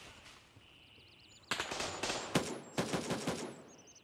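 Rapid automatic gunfire in the video game Gray Zone Warfare breaks out after a quiet start, loud close bursts of crackling shots with brief pauses, over faint whistling ambience.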